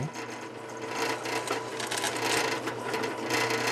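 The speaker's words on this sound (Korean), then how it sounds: "조수석 쪽은 비어있는 레일 공간에 구멍을 뚫어 의자가 자유롭게 움직일 수 있도록 만드는 작업입니다." A power drill bores holes into the empty rail space of a passenger-side car seat rail during body restoration of a near-scrapped used car, giving a steady, continuous whirring grind that holds close and loud throughout.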